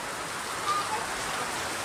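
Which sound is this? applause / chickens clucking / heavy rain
heavy rain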